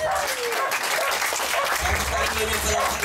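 A church congregation applauds in a steady, moderately quiet burst of clapping, with a low rumble of voices underneath in the hall.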